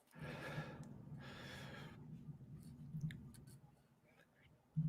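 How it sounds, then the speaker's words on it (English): Quiet, close breaths rush into a microphone, two long heavy exhales followed by soft clicks and a brief thump. "I heard that heavy breathing."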